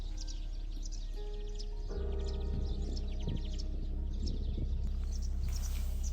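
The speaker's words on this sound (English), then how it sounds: "hear the birds still chirping" Birds chirp and tweet in short bursts against a quiet outdoor background in a vineyard in Kakheti, Georgia, with a low steady hum, calls scattered and fairly distant.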